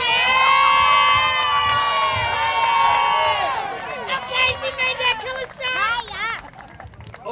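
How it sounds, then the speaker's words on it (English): Children and a crowd cheer and shout for first-place winners at a school community night outdoors, loud and continuous at first, then breaking into scattered excited yells and chatter. "Everybody, let's clap it up for our first place winners"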